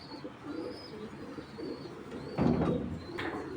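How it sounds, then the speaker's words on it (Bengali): A breeding pigeon cooing softly in a loft, low throaty coos repeated over faint background noise, with a slightly louder call near the end. "এটা ব্রিডিং একটা কবুতর"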